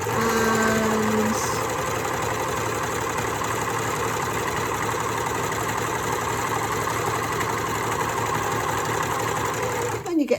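A Janome 6234 XL overlocker runs steadily while sewing fabric, a loud continuous mechanical whir that holds for about ten seconds before slowing and stopping with a few clunks at the end.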